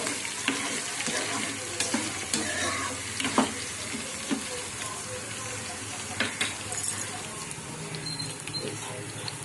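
Green chillies fry for lemon pulihora with a constant crackling sizzle and scattered sharp pops, heard close under a low background hum.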